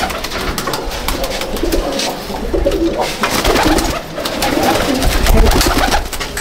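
Pigeons in a loft at Icchapur, North 24 Parganas, giving repeated low, throaty coos that overlap one another against a dense, close backdrop of rustling and shuffling.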